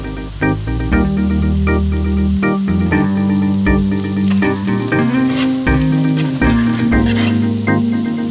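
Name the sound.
sausage being fried in a wok for nasi goreng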